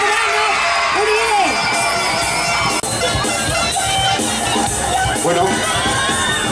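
A crowd cheers, whoops and shouts for the final candidate at a 2013 beauty pageant coronation night in Santa Tinguiña, a loud, dense roar with children's shrieks and voices mixed in throughout.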